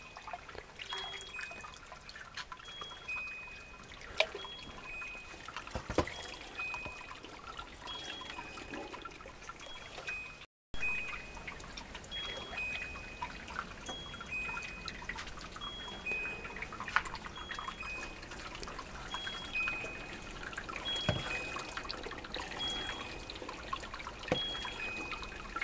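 Wort dripping and draining inside an automatic home beer brewing machine, a steady close trickle with scattered individual drips and faint tonal hum running throughout, briefly cutting out partway, no voices.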